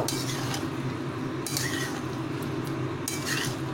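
Paneer pieces being stirred into spice masala in a pan, with continuous close scraping and clinking of a spoon against metal over a low steady cooking hum.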